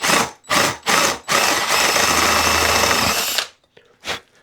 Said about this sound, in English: very easy to drill.